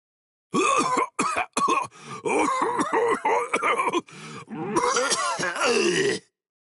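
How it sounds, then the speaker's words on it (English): A person coughs and groans in a string of rough, close bursts with brief gaps between them, loud and with no talking. "how long you gonna cough?"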